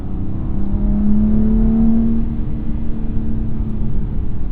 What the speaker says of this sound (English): A lot of people complain about the S55 online, saying it sounds like a lawnmower or a tractor